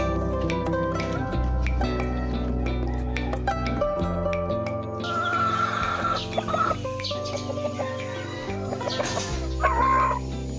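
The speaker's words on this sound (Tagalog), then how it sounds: "May mga alagang manok din pala si Tito." Pet chickens cluck repeatedly at a family home, their calls close and mixed over backing music, with a faint crowing note among the busy clucks.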